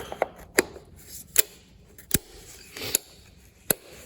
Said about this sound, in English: Put our cap back on here.